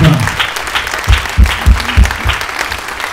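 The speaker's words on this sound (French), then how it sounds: "Vous pouvez l'applaudir encore une fois" An audience claps and cheers on stage for sailor Istvan Kopar at his Golden Globe Race arrival, steady applause with a few louder thumps and a voice briefly over it.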